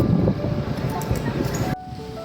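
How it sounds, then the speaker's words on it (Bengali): Strong wind blows outdoors under a darkening sky just before rain. It rushes loud and close as a steady broadband roar with gusty buffeting, then drops to a quieter rumble near the end. "বাইরে ভীষণ হাওয়া দিচ্ছে"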